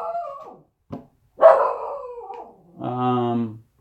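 A pet dog barks and howls outdoors in a short series of loud, close yelps and drawn-out cries with pauses between them.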